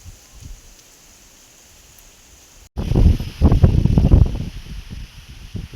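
Heavy rain falls outdoors in the Tulu-speaking region, starting faint and then swelling into a loud, gusty roar of rain and wind buffeting nearby trees in the second half.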